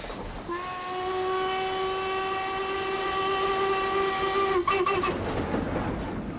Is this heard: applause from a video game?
no